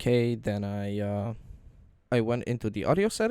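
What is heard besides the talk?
None of the usual background noises is heard.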